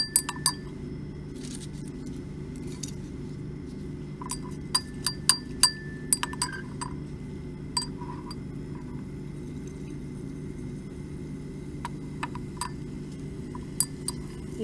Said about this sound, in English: Then add the pieces of aluminum foil to the copper sulfate solution.